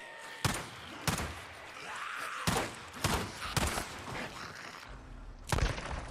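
Pistol shots in the zombie-horde game Days Gone, about six sharp, loud cracks spaced roughly a second apart over a busy, noisy background of rushing sounds.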